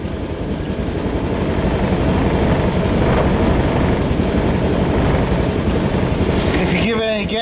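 A 2004 Honda Reflex scooter idles after a cold start at 14°F with a steady, loud, droning engine rumble that holds constant throughout, with brief clatter at the end.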